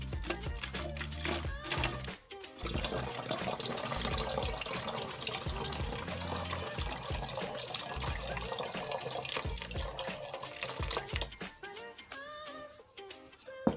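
Water pours steadily from a 50 cl bottle into a measuring container while a one-liter oral rehydration solution is being prepared. The flow runs close and continuous for about nine seconds, with clinks and handling sounds before and after.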